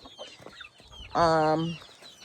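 Chickens in a morning courtyard: a hen gives a loud, drawn-out clucking call up close, with faint softer clucks and stirring around it.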